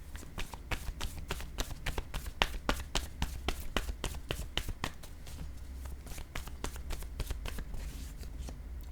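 Word cards shuffled and drawn by hand, a close, steady run of quick riffling flicks and taps lasting several seconds over a low background hum, with no talking.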